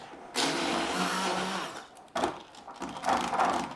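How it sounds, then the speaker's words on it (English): A blender blending a mixture in a bowl, a loud steady whirring motor that cuts out briefly and restarts unevenly, with no talk. "I'm just gonna blend it until smooth."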